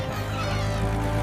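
A cartoon cat meows with a loud, sustained, tonal cry that runs through the whole moment of a farm chase scene, steady and close.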